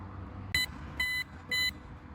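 Three short electronic horn beeps from a solar-powered LED bicycle light, bright and tonal, with the second and third held slightly longer, over a quiet background hum.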